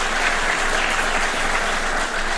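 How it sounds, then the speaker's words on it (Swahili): Thick, sustained applause from a large audience at a presidential event unveiling digital government services at KICC in Nairobi, loud and even throughout with no break. "Tuwapigie makofi jameni."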